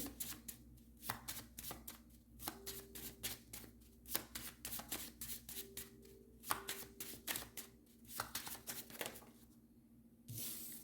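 Tarot cards are shuffled and drawn in a steady run of soft, rapid riffling and slapping, close and quiet, repeating for several seconds with brief pauses and no talking.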